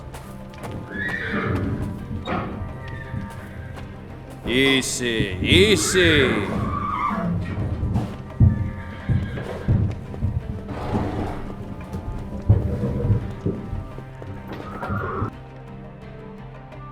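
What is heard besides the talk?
horses neighing and hooves clopping in video game Secret Files 3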